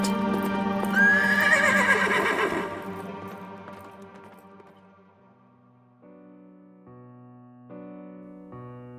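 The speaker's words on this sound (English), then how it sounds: "and Gunpowder, the black steed, and the goblin rider passed by like a whirlwind" A black horse whinnies loudly and close, then its sound fades away under soft, sustained musical tones.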